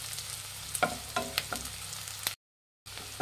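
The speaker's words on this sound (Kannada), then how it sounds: "ಈರುಳ್ಳಿ ಫ್ರೈ ಮಾಡಿ." Onions and a few cashews fry in a pan for carrot rice, a soft sizzle punctuated by several sharp spatula scrapes and clinks, with a brief silent gap.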